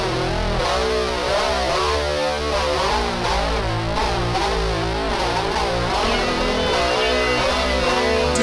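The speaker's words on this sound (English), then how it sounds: "Distortion, the effect." A loud, heavily distorted buzzing drone with gritty, saturated harmonics, steady and unbroken throughout.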